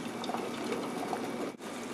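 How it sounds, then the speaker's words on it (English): Boiled eggs dropped into a bowl of ice-cold water give a steady, close watery gush and slosh that runs almost two seconds, with a brief dip near the end. "put them into ice cold water for at least 5 minutes until they're cool enough to touch"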